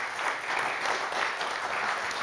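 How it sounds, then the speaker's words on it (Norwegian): Steady audience applause at an energy-situation talk, a dense continuous patter of clapping for about two seconds with no speech. "Og dere er veldig flinke til å klappe, så bare klapp henne også inn."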